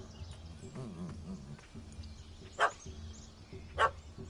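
Dog barking in the video game The Witcher 3: Hearts of Stone expansion, two sharp barks about a second apart over a low bed of game music and ambience.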